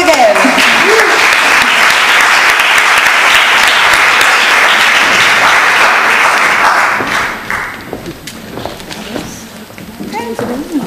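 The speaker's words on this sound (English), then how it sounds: "And a warm applause again" Warm audience applause at the Cinedans 2011 dance film awards ceremony, sustained dense clapping from a full hall that tapers after several seconds as a voice speaks over the fading claps.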